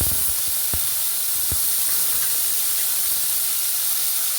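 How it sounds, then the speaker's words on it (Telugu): Four chopped tomatoes sizzle loudly in a pan with sesame oil, giving a constant bright hiss, with a couple of low bumps near the start. "ఇదే ప్యాన్లో కట్ చేసుకున్న 4 టమాటోలు వేసుకుంటున్నాను"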